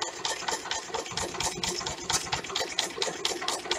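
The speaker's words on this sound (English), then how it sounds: "So I've turned the RPM of the engine all the way down" A Stirling engine turned down to a slow speed drives a hoverboard motor used as a generator, producing a steady, rapid mechanical clatter of regular ticking pulses, close and moderately quiet with no voices.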